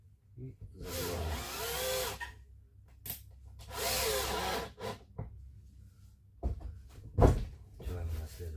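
Two bursts of a power drill driving screws into wood floorboards, each about a second long, with a few short knocks and clunks between them.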